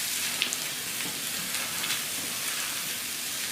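Grated fresh coconut and boiled carrot frying in a pan, giving a dense, even hiss like light rain that holds steady throughout, close and moderately loud, with no voices.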